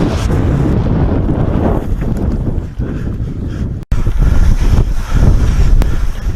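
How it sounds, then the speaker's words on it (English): Strong wind roars across the microphone during a speedwing flight, a loud continuous buffeting rush with one brief dropout midway and no speech. "Nice strong wind blowing at the moment"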